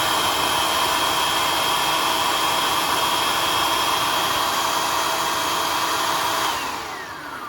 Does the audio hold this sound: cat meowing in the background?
no